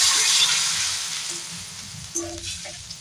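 Boiled broth poured into spices frying in a pan, a loud broad sizzle that fades steadily over a few seconds, with a few small clinks near the end.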